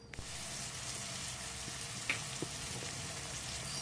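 Tomatoes frying in a pan with spices, a steady low sizzle running the whole time with a couple of small clinks or stirring taps, close and fairly quiet, no talking.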